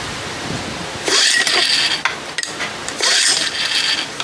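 Two pull-starts on an unchoked 1975 Johnson 4 hp outboard motor, each a sharp ratcheting whir of the recoil cord with a rasping spin that fails to fire, separated by a short pause.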